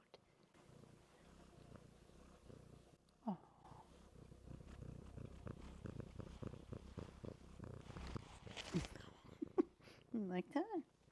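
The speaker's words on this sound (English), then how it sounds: "You're still purring so loud." A pet cat purrs loudly right against the microphone, a low continuous rumble under a person's soft, brief talk, with a few higher meows or whimpers near the end.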